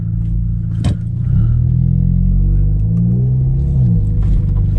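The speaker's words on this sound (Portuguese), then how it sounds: "O escape tá bem comportado, por mais que só tenha, deixa eu ver no desão, um abafador, ele é bem comportado, viu?" A car idles with a loud low exhaust rumble through a single muffler, steady and close, with a brief clatter near the start.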